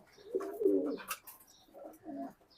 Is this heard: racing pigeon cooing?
yes